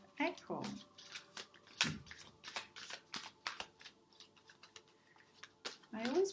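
Tarot cards being shuffled by hand before a reading, a quiet run of close, crisp riffling and flicking taps, with a soft voice speaking faintly beneath it at the start and end.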